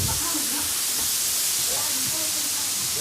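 A stir fry with lime sizzles in a hot pan, giving a loud, continuous hiss with a steady spitting texture, while faint voices talk underneath.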